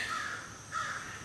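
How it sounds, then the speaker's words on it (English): Crows caw twice in the early morning at a kayaking campsite, two separated harsh calls, fairly faint and distant with no voices. "the crows have started doing their little hollering this morning"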